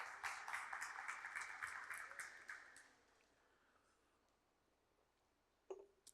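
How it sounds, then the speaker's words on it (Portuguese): A church congregation applauding during a teaching service, brisk rhythmic clapping for about two and a half seconds that fades into quiet room tone, then one short isolated knock near the end; fairly faint overall. "Uma salva de palmas para essa coisa mais linda do mundo."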